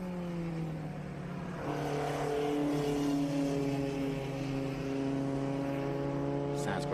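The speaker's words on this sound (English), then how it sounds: "And here comes Steven Backenberg in the 24 BMW." A BMW race car, number 24, roars past on the Watkins Glen circuit, its engine note climbing and shifting as it approaches and passes close by, loud and steady throughout with commentators talking over it.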